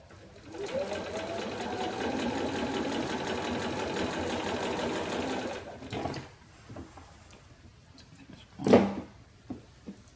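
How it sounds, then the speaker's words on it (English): A sewing machine stitches quilt block pieces next to a drawn line, whirring steadily and close for about five seconds, then stopping, followed by a few faint handling clicks and a brief louder bump. "I'm going to sew just next to my drawn line"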